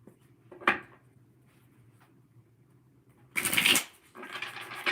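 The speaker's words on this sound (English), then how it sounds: "And let's do a few more shuffles here." Wild Unknown Tarot cards being shuffled by hand, with a brief riffle early on and then a louder, longer burst of shuffling near the end, close up against a quiet room hum.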